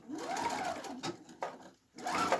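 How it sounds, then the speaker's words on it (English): Home sewing machine running a straight triple stretch stitch on a shoulder seam, two stitches forward and one back, whirring in close bursts with brief pauses and a rising, falling motor pitch. "It's a straight stretch stitch that sews 2 stitches forward and 1 stitch back."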